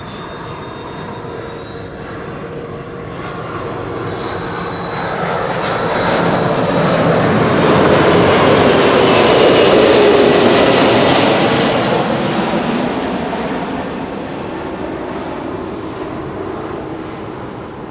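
A Delta Airlines Airbus A330-300 arriving at Amsterdam Schiphol on a flight from Minneapolis roars jet engines steadily, swelling louder as it passes close overhead around the middle and then fading, with no talk.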